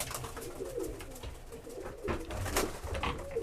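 Tippler pigeons cooing inside a loft, soft, close, overlapping coos that run continuously with a few louder rustles and flutters.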